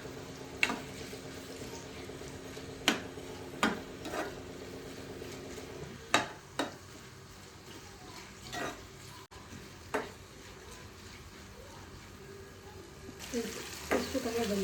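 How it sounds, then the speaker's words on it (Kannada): Onions fry in a pan with a steady, even sizzle, broken now and then by sharp clinks and scrapes of a spatula against the metal as the pieces are turned. "ಆನಿಯನ್ ಸ್ವಲ್ಪ ಫ್ರೈ ಆಗಿದ್ದು ಗೋಲ್ಡ್ ಕಲರ್ ಬರೋ ತನಕ ಇದನ್ನು ಫ್ರೈ ಮಾಡಿ"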